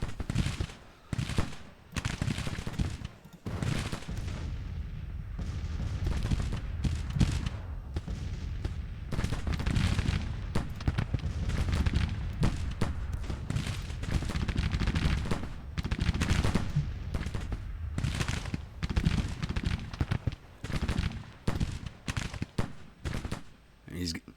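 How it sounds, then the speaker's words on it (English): Brigades exchange volleys of gunfire in a Civil War video game battle at Quincy, with rapid, crackling shots in dense bursts that go on for the whole stretch, broken by short lulls, and someone speaking at times over the din. "Now they're taking fire from all these brigades."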